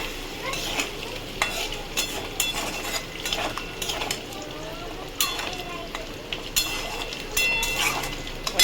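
Ginger masala being stirred and fried in a pan, with repeated scraping and clattering strokes of a utensil over a sizzle, fairly close, with a voice talking at times.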